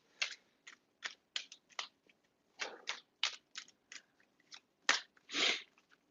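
Dropped tarot cards are gathered up and handled close by, making a series of short papery rustles and flicks, irregular in rhythm with brief pauses between them, fairly quiet with no talking.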